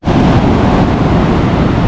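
Strong high-tide waves crashing on Hawke's Bay beach during rain, a continuous loud roar of surf mixed with gusty wind buffeting the microphone, close and unbroken with no talk.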